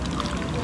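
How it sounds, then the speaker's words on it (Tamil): Dum chai tea pours in a brief, steady, close-up splashing stream, with no voices over it. "நான் ஊத்துறத எடு ஸ்லோ மோஷன்ல போடுறோம்"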